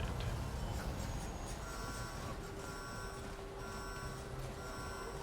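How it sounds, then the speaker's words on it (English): An alarm sounds in the Star Wars: KotOR video game, a faint, steady repeating electronic beep pattern in even pulses over a dull background hum, with no talk. "I don't like that alarm sounding sound."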